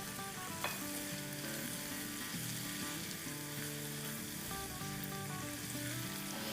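Curry leaves sputter and fry in hot oil for Gujarati kachi kadhi, a loud, close, continuous sizzle with a sharp pop near the start, no voices.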